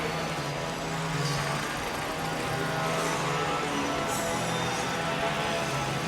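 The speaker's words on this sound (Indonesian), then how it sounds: "Itu sebenarnya petugas yang lagi motongin rumput di pinggir jalan" Roadside workers cutting grass with a trimmer in a Japanese village: a constant buzzing motor drone, moderately distant, running without a break under quiet outdoor background.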